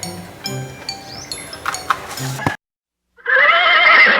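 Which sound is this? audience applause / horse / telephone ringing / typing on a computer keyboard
horse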